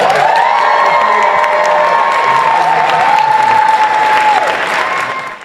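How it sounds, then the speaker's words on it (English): A crowd breaks into loud, sustained applause mixed with cheers and high whoops, holding steady before trailing off at the end. "Give them all a big round of applause"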